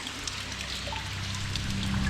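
Water trickles and drips inside the disused Mapperley railway tunnel, collecting behind a dam in a refuge, a soft continuous dribble with faint echoing drops and a low hum underneath.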